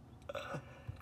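A Tesla's Emissions Testing mode plays a short novelty fart sound effect, a brief, fairly quiet burst heard alone with no talking.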